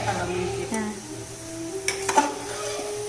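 Ghee sizzles and crackles in a pot while khadimpak sweet is made, with a steady fry, a few clinks of a stirring spoon against the metal, and people chatting nearby.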